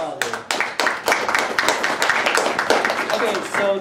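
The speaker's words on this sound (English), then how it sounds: "Let's give our contestants a big round of applause." Audience applause for debate contestants at a student government marijuana debate: dense, sustained clapping from a crowd, loud and steady throughout with no break.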